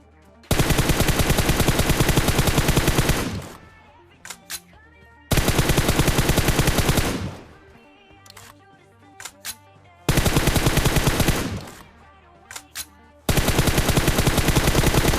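Four long, loud bursts of M4 rifle fire in a shooting video game, each a few seconds of rapid continuous shots separated by quieter gaps with a few scattered pops.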